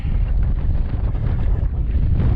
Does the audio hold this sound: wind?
yes